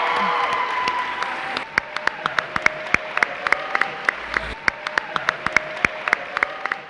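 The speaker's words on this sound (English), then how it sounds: "Let's hear one more round of applause for all of our athletes tonight." Crowd applause for athletes at an awards night, a steady roar of clapping from a large group with distinct sharp individual claps standing out up close, continuing throughout.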